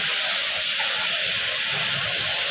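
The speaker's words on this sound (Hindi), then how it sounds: "मैं शैलो फ्राई कर रहा हूँ" Marinated chicken malai boti shallow frying in oil in a pan, giving a steady close hiss and sizzle with no talk.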